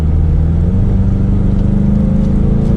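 A 2022 Ford Mustang EcoBoost engine drones loud and close through a sharp left turn, a steady low rumble with slowly shifting pitch and no voices.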